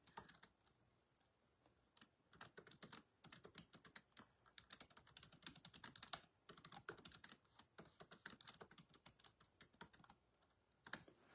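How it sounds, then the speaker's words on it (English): Rapid typing on a computer keyboard, dense bursts of close key clicks with short pauses between runs, fairly quiet and with no speech. "that's why I was paused when I was typing"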